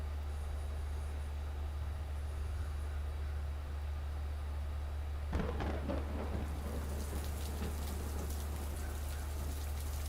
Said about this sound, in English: Thunder tears through the sky, startling me awake.